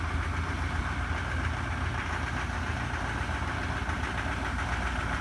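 A 2017 Chevrolet Silverado High Country's L5P Duramax diesel idles right after a cold start in sub-zero weather, a steady loud low rumble with a knocking clatter, continuous and close with no voices.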